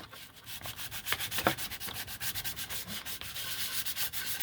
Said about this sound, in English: a fingernail file and go ahead and rough it up